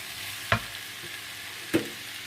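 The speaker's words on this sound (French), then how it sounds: "je mets mon poivron et je mets un feu un peu plus fort" Bell pepper fries in a pan over raised heat with a steady soft sizzle, broken by two sharp stirring clacks of a utensil against the pan, quiet and close with no talking.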